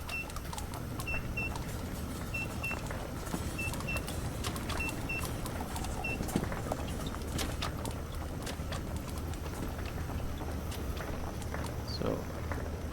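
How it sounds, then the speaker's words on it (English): A factory machine in the video game MineMogul gives a run of short, evenly spaced electronic beeps as an iron ingot passes through, set against dense clattering game noise. "I know why you were beeping, because I had an iron ingot pop through."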